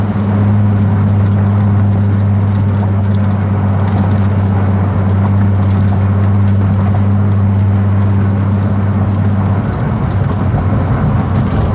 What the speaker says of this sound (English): Get your little turbo sounds.